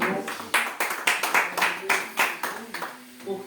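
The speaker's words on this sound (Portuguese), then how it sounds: "Vamos aplaudir ao Senhor." A church congregation claps in praise during a morning worship gathering, with a steady rhythmic beat of many hands and voices talking or singing over it.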